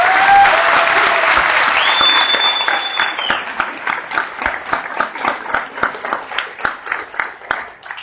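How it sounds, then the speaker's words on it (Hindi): Audience at a direct selling industry event applauding loudly for the Indian government, dense crowd clapping that thins into a rhythmic, unison beat toward the end, with a voice and tones briefly heard early on. "इसलिए भारत सरकार के लिए एक बार जोरदार तालियां बजाएं"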